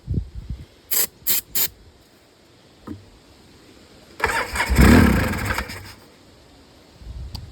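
A Polaris 700 ATV engine sputters through a few short cranks, then catches and revs up loudly for a couple of seconds before dropping back to idle.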